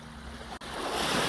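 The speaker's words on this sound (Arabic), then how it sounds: "اسمعوا صوت البحر، صوت الموج هذا" Waves break on a Baltic Sea shore, a faint, soft hiss and wash of surf with some wind, swelling slightly after a brief dip, without any talking.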